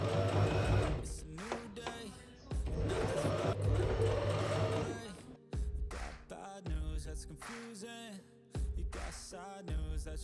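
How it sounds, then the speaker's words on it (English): Sewing machine top stitching the cuff of a leather trench coat, running in several bursts separated by short pauses, loud and close with a rhythmic mechanical whir. "And now I will make a top stitch on the cuff."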